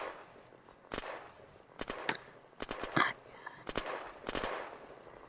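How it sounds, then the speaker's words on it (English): Gunfire in the Unturned video game during arena PvP, several sharp shots in irregular bursts, some close and loud, others fainter, with a voice talking under them. "they are shooting at us"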